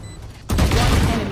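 Rapid video game gunfire from an enemy sprinting and shooting erupts suddenly after a quieter start, a loud, dense burst of shots that carries on to the end.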